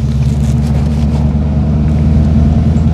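A 1989 Ford Mustang 5.0 V8 pulls hard in second gear, a loud, close, continuous throaty rumble with no talk over it.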